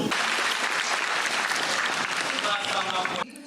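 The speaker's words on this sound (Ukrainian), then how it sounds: "Публіка вітає акторів гучними оплесками." A theatre audience in a hall of about five hundred seats applauds the actors with loud, dense, sustained clapping that cuts off abruptly just before the end.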